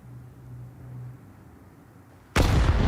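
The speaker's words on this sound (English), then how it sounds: "Oh, that nade is huge." A grenade detonates in Counter-Strike during a professional esports match, a sudden loud blast that bursts in near the end after a low, quiet lead-in.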